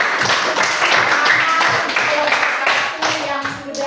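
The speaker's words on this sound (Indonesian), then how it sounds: "mari kita beri aplaus" A classroom group claps for the presenting team, with many hands producing a dense, lively burst of applause close by and a few voices mixed in.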